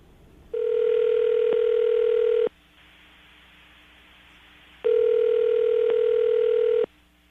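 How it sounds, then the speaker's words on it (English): Telephone call ringing out: two long, even ringback tones about two seconds each, separated by a quiet pause of similar length, clear and steady over faint line hiss. "we're going to dial the phone number right now, get her on the phone"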